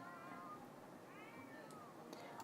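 A cat meows softly in The Sims 4 video game, giving two or three faint, drawn-out meows over a steady background hum.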